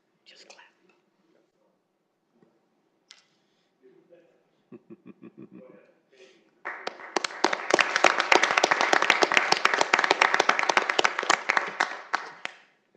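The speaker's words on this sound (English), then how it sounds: "Just clap." A planning commission meeting room applauds an honored commissioner: after a quiet stretch with soft murmurs and a few scattered claps, a full round of clapping breaks out and continues loud and dense for several seconds before tapering off.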